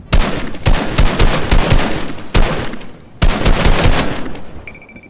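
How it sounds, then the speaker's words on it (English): Loud, close gunfire from the video game Fortnite comes in rapid automatic bursts, with sharp repeated cracks separated by short pauses and a faint electronic tone at the end. "I'm shooting everything"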